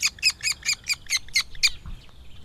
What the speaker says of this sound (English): we've got some kestrel chicks that have hatched